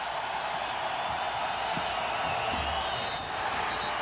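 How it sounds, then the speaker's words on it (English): Crowd noise at a 1994 World Championships basketball game between Croatia and Canada, a steady roar of cheering fans urging Canada on, with faint whistles and shouts rising through the din. "the crowd is alive now and urging them on"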